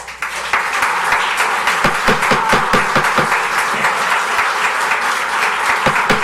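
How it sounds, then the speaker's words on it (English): Audience applause fills a plan commission meeting room in Batavia, a loud, dense burst of many hands clapping with sharp individual claps standing out, steady from start to finish. "Please, no applause."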